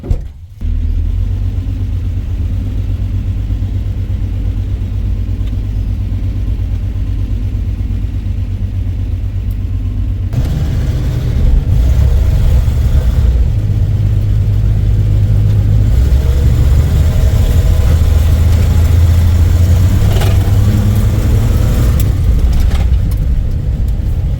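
A Dodge Aspen's 225 slant six engine running on all six cylinders during a test drive: a loud, steady low rumble that rises into heavier, fluctuating revving partway through, with no talking.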